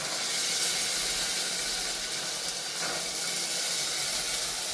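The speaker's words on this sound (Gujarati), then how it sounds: "એને ઘડીક વાર આપણે તેલમાં સાતડી લેવાનું છે લસણવાળા મરચાંને" Garlic-laced chillies sautéing in hot oil in a home kitchen, a steady loud broad sizzle and hiss that holds constant throughout with no speech.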